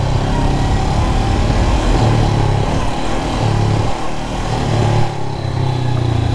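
A Honda CB500X motorcycle ridden over a rough patch, its engine droning loud and close with steady throttle and a brief dip near the end, with wind and road noise throughout.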